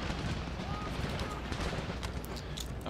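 Battle in the Darthmod Empire strategy game: dense artillery and musket gunfire rumbling loudly and continuously, with sharper shots cracking through near the end and a voice talking over the battle.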